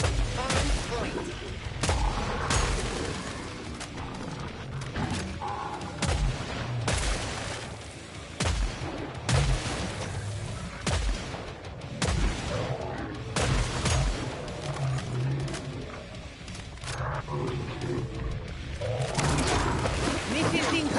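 Incoming missiles and gunfire in Killing Floor 3, repeated sharp shots and booming impacts scattered through a busy fight, with voices talking over the action.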